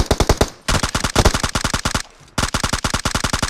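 Rapid automatic gunfire from the PUBG Mobile game rattles in loud, evenly spaced bursts, broken by two short pauses, with no voices over it.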